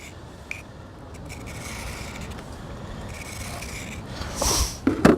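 A blade edge being sharpened on the coarse side of a sharpener at Clinton Lake, Kansas, gives a continuous soft rubbing rasp over a steady outdoor background, with a few brief louder scrapes near the end.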